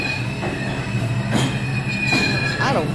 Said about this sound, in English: That's a two train.